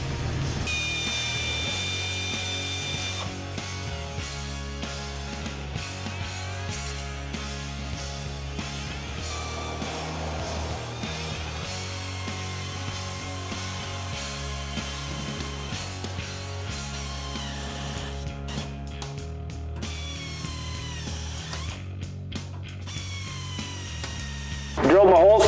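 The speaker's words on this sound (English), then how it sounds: "I'm going to come in and drill 4 corners and bolt this in place just to hold it temporarily, and then we'll come back and we'll drill all these holes" A power drill bores holes through the sheet metal of a 1968-74 Chevrolet Nova frame during a suspension install, with steady whirring motor tones and short bursts of grinding under a constant background hum.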